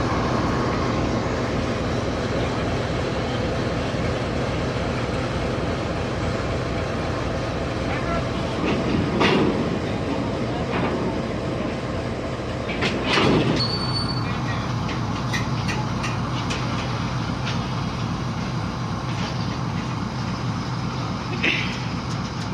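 A train rumbles steadily along the tracks between Lushala and Shapur with rhythmic wheel clatter, occasional metallic squeals, and faint voices in the background.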